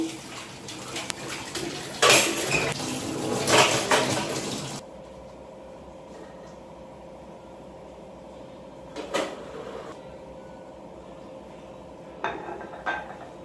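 Dishes, pots and cutlery are washed at a home kitchen sink: running water and clattering utensils fill the first few seconds, then fall to a quiet room broken by occasional clinks and knocks of pots being set down.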